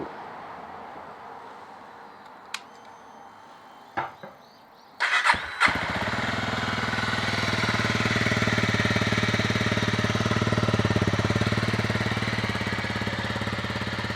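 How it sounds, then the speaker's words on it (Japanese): A Honda CRF250L single-cylinder motorcycle cranks with a few brief starter bursts, catches, then settles into a steady, close idle with an even thumping beat. "とりあえずエンジン始動してみましょう"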